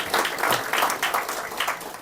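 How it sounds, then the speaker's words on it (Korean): A church congregation claps to welcome two newly baptized members, a brief, dense wash of applause that stays fairly even and close for a couple of seconds. "이 두 분들 격려의 박수 좀 드리겠습니다"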